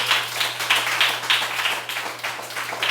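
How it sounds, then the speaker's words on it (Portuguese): A church congregation claps in a steady, rhythmic beat, roughly three claps per second, over a low electrical hum, with no voices over it. "dê uma linda salva de palmas a Jesus."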